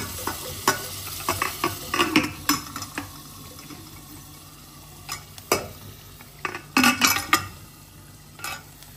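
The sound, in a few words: mutton frying and stirring in oil with spice paste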